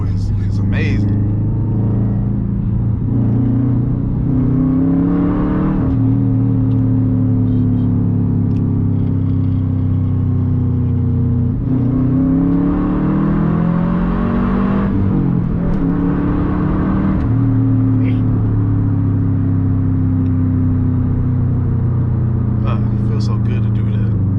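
Boosted car pulling hard under full throttle, engine note climbing through several gear shifts, heard from inside the cabin, loud and continuous, with occasional voices.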